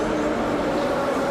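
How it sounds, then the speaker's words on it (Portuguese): An old Soviet-built subway car runs through the Moscow metro, giving a loud, steady rolling rumble with a low droning hum that stays constant throughout. "Esse é um típico vagão soviético ainda. Deu para entender pelo barulho, né?"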